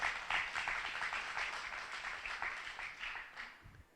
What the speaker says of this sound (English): if anybody deserves claps, it's her